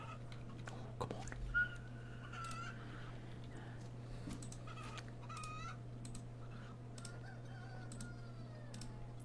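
Video game chicken clucking in short, faint bursts scattered over a steady electronic hum, with soft clicking and quiet vocal noises mixed in.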